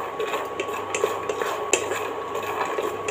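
Peanuts dry-roasting with a little salt rattle and scrape in a pan as they are stirred, producing close, brittle clicks and light metallic scrapes with a faint hiss beneath.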